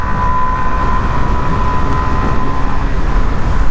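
A Suzuki DR-Z4SM supermoto rides along at speed, its engine and wind roar forming a steady, loud, continuous drone with no talk over it.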